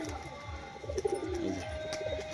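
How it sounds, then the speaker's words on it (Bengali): Male and female border crested pigeons coo softly in a short close run of low, rolling calls. "এটা হচ্ছে নর পায়রা, সামনেটা মাদি পায়রা"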